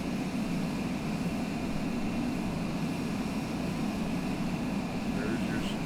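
A fast plane in Flight Simulator 2020 flies over the Las Vegas Strip with a steady, even roar of engine and wind that holds constant throughout, while someone talks over it.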